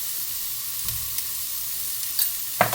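Peppers, celery and carrots stir-frying in a pan give a steady, quiet sizzle, with a few soft scrapes and clatters from stirring near the end.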